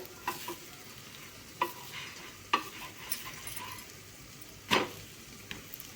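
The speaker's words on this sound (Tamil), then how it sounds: "தோசை பார்த்திங்கன்னா வெந்துருச்சு இப்போ நம்ம வந்து திருப்பி போட்டுக்குவோம்" A flipped dosa sizzles on a hot pan, a soft steady hiss broken by a few sharp scrapes and taps of a spatula, close and with no voices.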